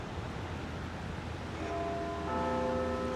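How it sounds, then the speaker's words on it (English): London church bells ring for 6:30 on the north bank of the Thames, with faint distant tolls rising out of a steady outdoor rumble of wind and city noise. "The bells for 6:30."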